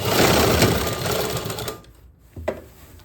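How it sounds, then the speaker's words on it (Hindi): A sewing machine stitches a sleeve onto a suit in a fast, loud mechanical whir for over a second and a half, then stops, followed by a couple of soft handling clicks. "थोड़ा देखो मैं उठा उठा के सिलाई मार रही हूँ, बार बार मैं हल्का सा उठा रही हूँ और सिलाई लगा रही हूँ"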